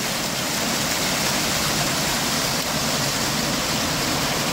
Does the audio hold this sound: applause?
no